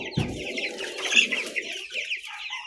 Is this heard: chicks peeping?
yes